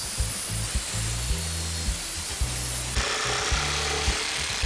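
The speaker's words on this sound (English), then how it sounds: "that's it all done with the jigsaw and it worked pretty well" A jigsaw saws a wavy edge into a wooden bench-seat board in repeated short cutting strokes, each burst of buzzing blade noise separated by brief pauses, loud and close.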